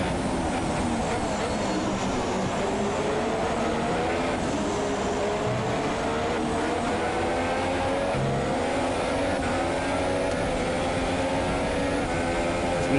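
Race cars, a Ferrari and a Mercedes, roar through a Formula 2 racing video game at the Mexican Grand Prix, a steady loud engine whine with rising and falling pitch sweeps throughout.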